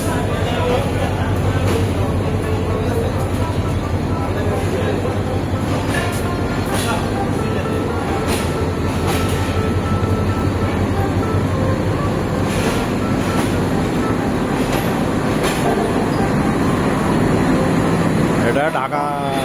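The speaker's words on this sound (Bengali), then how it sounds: "জয়ন্তিকা এক্সপ্রেস সিলেটের দিকে যাইতেছে" The Jayantika Express passenger train rolls loudly and steadily through Dhaka Airport railway station, with a dense, continuous rumble and clatter of wagons close by and a brief squeal near the end.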